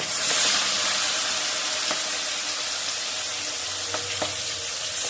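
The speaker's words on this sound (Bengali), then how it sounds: "প্রথমে পেঁয়াজগুলো দিয়ে দিলাম পেঁয়াজগুলো ভেজে নিয়ে" Onions frying in a pan of oil on a home stove, giving a steady close sizzle and hiss with a few faint clinks of a utensil and no voices.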